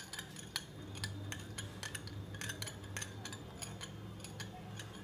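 A spoon stirs a coconut oil hair remedy in a bowl, giving quick, faint, irregular clinks and scrapes against the bowl with no talking.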